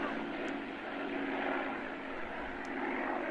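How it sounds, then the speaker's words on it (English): Aircraft at the 1988 Duxford airshow, a steady broad engine roar from a plane in flight, moderately loud and unbroken throughout, with no clear talk over it. "turn the sound up for the sound of these aircraft."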